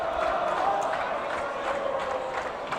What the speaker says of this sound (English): the Amherst crowd starts their chants again